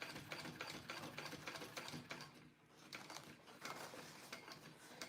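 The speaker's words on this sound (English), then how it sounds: "So I just sewed along my stitching where I had stitched the handle" Sewing machine stitching along the handle of a fabric pouch, a quiet continuous rapid mechanical rattle with a brief slowdown partway through.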